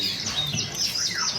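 Bird at a Vietnamese theme park giving brief high chirps over noisy outdoor background sound, moderately loud for a short burst.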